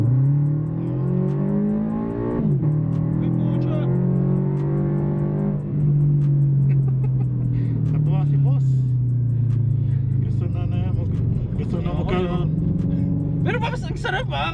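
A 2017 Toyota GT 86 is driven, its engine a steady loud drone inside the cabin that rises and falls in pitch as the revs change. People talk over it throughout.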